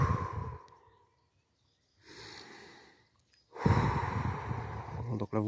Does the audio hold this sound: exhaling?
yes